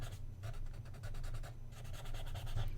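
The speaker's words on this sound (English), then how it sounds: "we're just smudging the graphite" A tortillon paper stump smudges graphite across drawing paper in short repeated rubbing strokes, a close, soft scratchy whisper pulsing in quick rhythm without a break.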